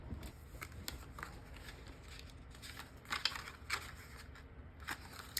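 Paper being cranked through a die-cutting machine for handmade journal pop-ups gives off quiet, irregular crunching and crackling clicks with brief sharper snaps, and no one speaks.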